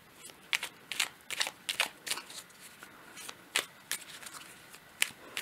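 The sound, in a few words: handling petit oracle tarot cards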